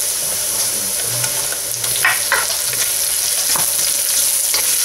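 Garlic and onion sauté in hot oil in a wok for chop suey, a steady close sizzle with a few brief scraping stirs, no talking.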